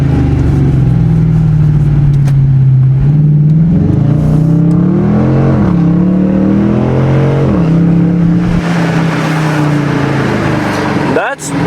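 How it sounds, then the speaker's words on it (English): A 2020 Dodge Challenger R/T's engine roars loud and close as it runs through gears, the engine note rising and dropping repeatedly with shifts and blips, ending in an abrupt cut. "Just take a listen to the downshifts and the upshifts."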